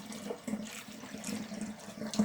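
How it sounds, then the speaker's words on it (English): Cooled homemade beetroot wine being poured into a bottle, a steady close trickle of liquid running continuously with no talk over it. "I'm going to pour it until it gets to the neck"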